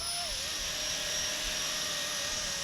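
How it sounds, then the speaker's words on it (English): A Blade 230S RC helicopter with a brushless main motor flies in windy conditions, giving a steady high-pitched whine with a wavering tone over a constant rushing drone, close and loud. "What a terrible time to be flying this helicopter."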